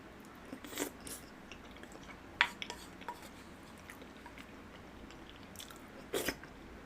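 Soft, close chewing of chicken and tteokbokki, with scattered wet crunches and small bites spaced irregularly over a quiet background and no speech.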